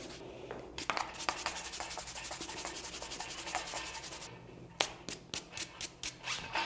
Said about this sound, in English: scrub it out of the knurling.